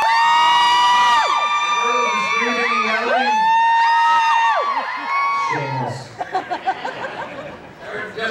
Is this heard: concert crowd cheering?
yes